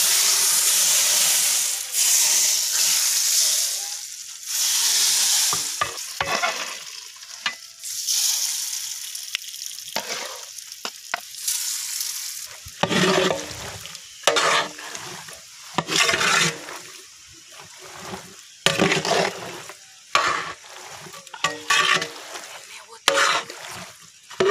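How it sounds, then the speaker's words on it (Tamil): Spices hit hot oil for mango pickle and sizzle loudly, then settle into a rougher hiss broken by repeated stirring scrapes and bursts of frying, close and loud, with a voice talking over parts of it. "ஊற்றுறேன் தாளிச்சு நல்லா கிண்டிக்கணும்."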